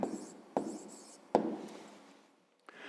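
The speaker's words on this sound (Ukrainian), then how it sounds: "Записуємо тоді відповідь." A pen writes an answer on paper with quiet scratching strokes broken by a few sharp taps, and no one speaks.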